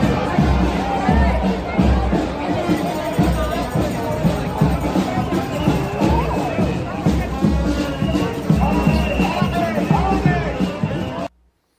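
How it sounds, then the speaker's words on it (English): A dense May Day protest crowd in Washington Square, New York City, keeps up continuous loud chatter and overlapping voices until an abrupt cut. "over in New York City, Washington Square, here's their May Day protest"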